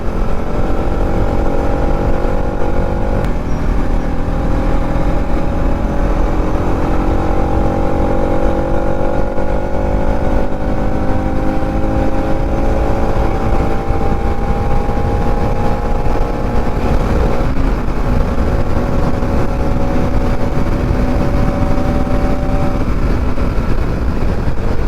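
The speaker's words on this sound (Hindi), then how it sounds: "भाई अपनी बाइक का एक बार साउंड फील क्या ही गजब है।" A Bajaj Pulsar NS200 motorcycle engine drones loudly and steadily on a highway ride, rising and falling in pitch as it accelerates and shifts, with rushing wind throughout and no talk.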